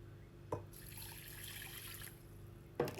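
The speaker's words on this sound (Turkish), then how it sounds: "mercimeği iyice yıkayıp süzüyorum" Green lentils are rinsed under running water, a faint steady stream with two brief clattering knocks, quiet and close.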